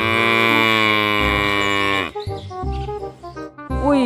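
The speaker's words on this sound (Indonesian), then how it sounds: "Seekor sapi, teman-teman." A cow gives a loud, long, close moo, followed by a second shorter, wavering lowing call.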